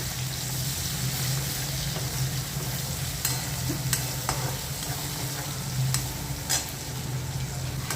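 Chopped tomato and onion fry on high heat in a pan, a steady close sizzle with faint stirring scrapes and occasional clicks, no voices.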